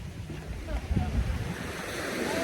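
Surf washing onto a beach where sea lions gather, a steady low roar with wind buffeting the microphone, swelling slightly toward the end and heard alone without voices.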